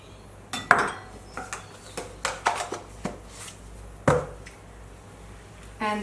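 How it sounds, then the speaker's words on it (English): Egg yolks and sugar going into a mixing bowl for a gluten- and dairy-free cake, with a series of light clinks and taps of utensils against the bowl, close and fairly quiet. "I'm going to add the egg yolks and my sugar."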